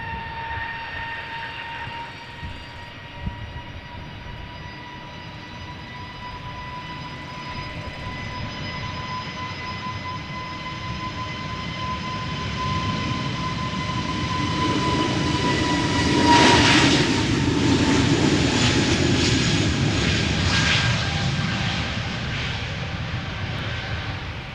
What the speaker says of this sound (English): Spooling up as we speak. On its way to Reykjavik, A320neo.